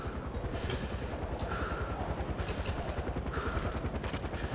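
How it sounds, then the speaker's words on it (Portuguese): A helicopter in Far Cry 4 makes a steady, loud rhythmic rotor chop that thuds fast and evenly throughout, with faint higher whines drifting in and out. "Helicóptero, mano."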